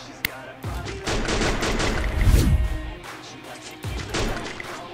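Gunfire in a video game, a sharp single shot followed by a rapid burst of shots and a second short burst near the end, loud and close.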